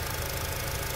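A stock K24A2 engine in a 2006 Acura TSX with a six-speed manual idles with a smooth, even low hum during a very brief close-up moment, with no voices over it.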